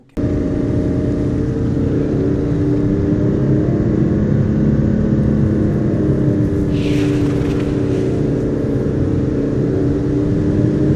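A car drives on steadily in Final Fantasy XV, a continuous low engine hum and whir holding an even loudness throughout, with a brief faint hiss partway through and no talking.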